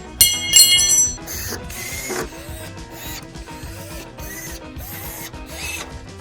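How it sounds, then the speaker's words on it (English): A screwdriver fastening a part on a new Blackstone griddle during assembly, heard as close mechanical ratcheting and metallic clicks with squeaky scraping, with no talk. "You'll probably need a smaller screwdriver to secure this due to this space."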